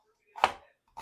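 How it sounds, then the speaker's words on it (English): A knife chops onion on a cutting board with two sharp, close thunks about half a second apart, alone in silence. "chop us up some onion."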